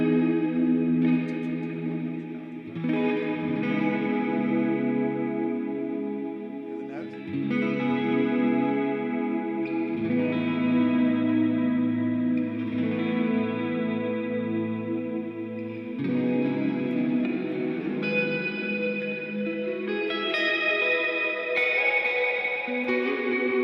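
An electric guitar plays sustained clean notes bathed in a lush, moving ambient reverb that swells and shimmers continuously, loud and without speech.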